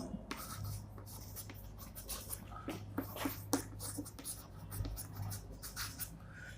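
Someone writes D-glucose on a board, making quick scratchy strokes and taps in uneven bursts, moderately close, while a teacher talks quietly over the writing.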